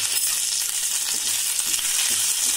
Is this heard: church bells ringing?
no